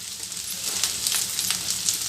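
Poppy seeds and fennel fry in a pan with a steady, close sizzle and crackling pops throughout, fairly loud, with no talking.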